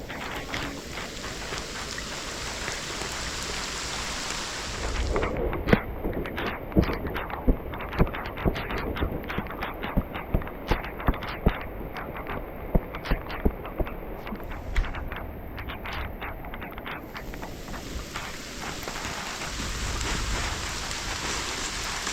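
Rain falls steadily in a rural Lao village, a dense hiss with sharp, loud drops striking a nearby surface in irregular bursts through the middle, heard alone without talk.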